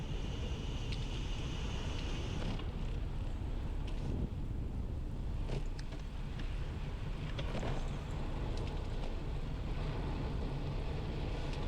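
Steady, loud wind buffets a microphone while cycling with a tailwind along the Seine in Paris, a constant roar with faint passing traffic underneath.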